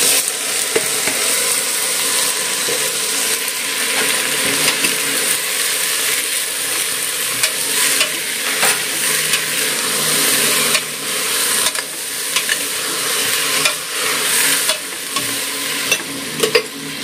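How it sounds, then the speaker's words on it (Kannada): Fresh pigeon peas go into a cooking pan with coconut and tomato, giving a steady close sizzle under repeated scraping and stirring sounds of a utensil against the pan, no talking. "ಇವಾಗ ಕಾಳು ಹಾಕ್ಕೊಳ್ತಾ ಇದ್ದೀನಿ."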